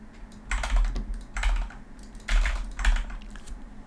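Bursts of typing on a computer keyboard, several quick clusters of keystrokes close by, separated by short pauses, with no talk.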